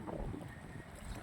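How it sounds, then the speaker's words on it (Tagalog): Strong typhoon wind buffeting the microphone on the shore of Manila Bay at Pasay, a loud, steady rumbling roar filling the short moment with no speech. "kaya malakas pa rin yung hangin"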